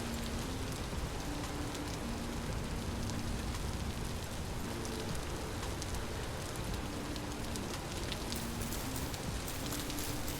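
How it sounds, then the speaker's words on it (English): Rain falling in the Vintage Story game, a dense, constant hiss of drops on surfaces that holds even throughout, with faint low tonal ambience underneath and no talking. "it gets me away from the bloody sound of rain"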